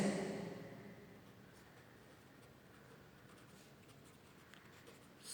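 Pen writing calculations on paper, a faint continuous scratching close by in a quiet room with no speech.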